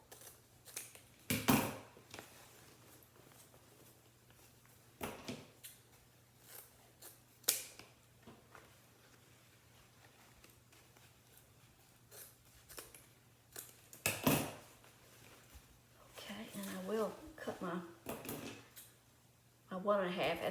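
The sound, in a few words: cutting ribbon at an angle with scissors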